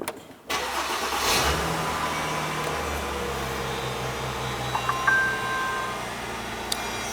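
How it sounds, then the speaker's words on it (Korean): A Mercedes-Benz car engine starts with a brief cranking burst, then settles into a steady close idle hum that carries on alone. "제가 우선 차에 시동을 걸었고"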